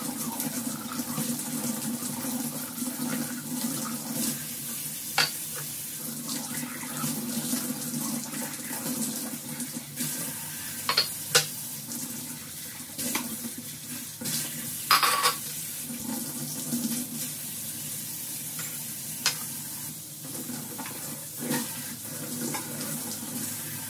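Tap water runs steadily at a kitchen sink while tea cups and dishes are washed, a continuous close splashing flow with occasional light clinks of crockery, no talking.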